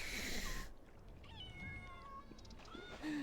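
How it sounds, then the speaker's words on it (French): A kitten in the video game Assassin's Creed Shadows gives a few thin, drawn-out meows amid a soft ambient game background, faint and close, with a brief rising squeal at the end. "il y a un chaton au milieu de tous les poissons"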